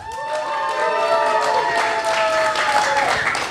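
Audience at a live show breaks into applause, cheering and whistling, a continuous, fairly loud burst of clapping and voices with high whistle-like tones over the crowd.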